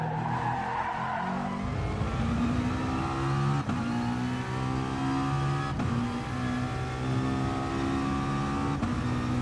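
A Gr4 race car at Spa in Gran Turismo holds a loud, steady engine drone, its harmonic pitch rising through gears with brief dips at shifts and some tire scrub, no voices.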